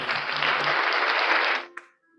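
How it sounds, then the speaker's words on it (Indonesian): Church congregation clapping together during a sermon, a dense burst of applause that holds for about a second and a half and then stops abruptly, leaving near silence. "Mari sama-sama tepuk tangan Tuhan."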